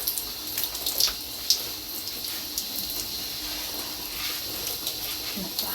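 A shower runs with a steady, soft hiss of water spraying and splashing close by, with a few louder spatters near the start.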